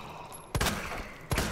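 Gunfire in Resident Evil 2, two sharp shots about three-quarters of a second apart over a steady low game ambience.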